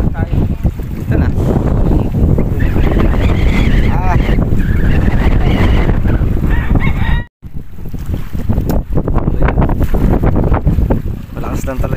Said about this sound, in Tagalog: Malakas lang talaga hangin dito